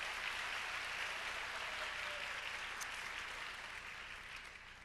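Faint, distant audience applause at a talk by the president and CEO of the U.S. Fund for UNICEF, a steady even wash of clapping that slowly fades over about five seconds.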